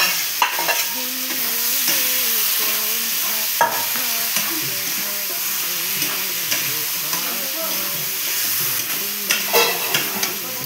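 Vegetables frying in fish oil are stirred in a pan, with a steady sizzle under repeated scraping and clattering of the spoon against the pan, close and fairly loud throughout.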